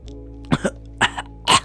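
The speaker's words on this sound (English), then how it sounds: "Neji coughs up blood as he feels one of his lungs collapsing" Neji, an animated character, gives three sharp, raspy coughs spaced about half a second apart. They are close and loud, each with a short double burst, over quiet background hum.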